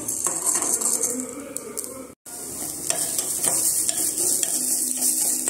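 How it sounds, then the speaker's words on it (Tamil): Chana dal (split chickpeas) roasting in a pan, with steady sizzling and repeated stirring scrapes that run almost throughout, broken by one brief silence partway through. "கடலை பருப்பை வறுத்து கொஞ்சமாக வறுத்து எடுத்து வச்சுக்கணும்"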